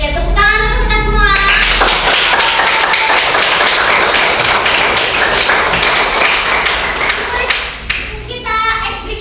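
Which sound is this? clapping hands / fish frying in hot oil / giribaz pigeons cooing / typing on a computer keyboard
clapping hands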